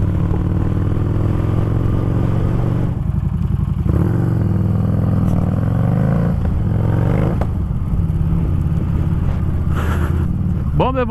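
A Harley-Davidson Street Rod 750 rumbles loudly and steadily while ridden, its engine drone rising and falling with throttle under constant wind roar, close up.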